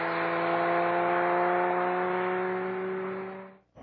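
Porsche sports cars racing around the Summit Point course, a loud sustained engine drone with steady harmonic tones holding for several seconds before fading and cutting off, no voices.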